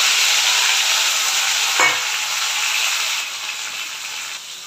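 Tomato and green chili sizzle loudly in a hot pan, a dense bright hiss with a quick scrape of stirring partway through, the frying easing slightly toward the end, with no voices.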